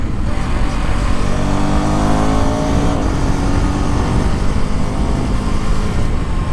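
A Husqvarna Vitpilen 250 cafe-racer motorcycle being ridden, its engine droning loud and close with a constant roar and shifting tone as the bike slows under hard braking.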